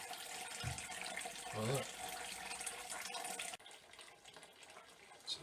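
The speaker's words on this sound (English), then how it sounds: "It's a nice slow sparge." Water runs steadily in a slow sparge during home beer brewing, a continuous close trickling and gushing that drops in level partway through, with brief talk over it.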